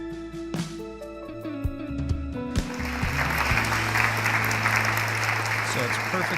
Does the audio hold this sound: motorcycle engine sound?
no